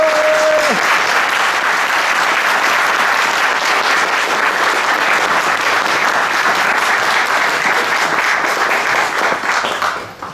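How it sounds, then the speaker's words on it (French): A convention crowd at a Star Wars Unlimited conference applauds the speakers, loud, dense and sustained clapping filling the room for about ten seconds before cutting off, with a brief voice at the very start. "j'aimerais qu'on les applaudisse une nouvelle fois"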